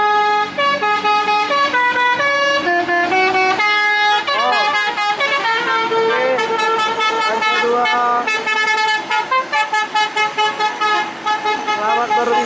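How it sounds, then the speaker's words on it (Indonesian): Two Agung Wisata Payakumbuh tour buses from West Sumatra rolling past in convoy, blasting loud, melodic musical horns in rapid changing tunes that play continuously and close by with barely a pause. "Konvoy 2 unit bus pariwisata Agung Payakumbuh."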